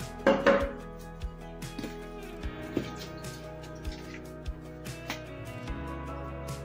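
Scattered clinks and taps of a utensil against a bowl while flour, salt and boiling water are mixed for lavash dough, a few louder knocks early, then sparse light clatter at close range.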